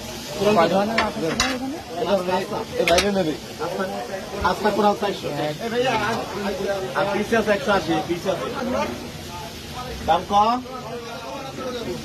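Fish sizzling and frying at a seaside hotel food stall on a beach, steady crackle under constant nearby chatter and people talking close up.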